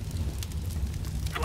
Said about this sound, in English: I'm throwing incendiary out.